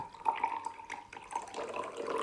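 Water pours into a glass during a color-changing magic trick, a steady splashing trickle that runs continuously at moderate level, close by with no voices.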